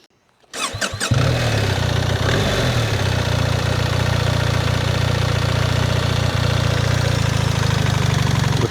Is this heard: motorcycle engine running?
yes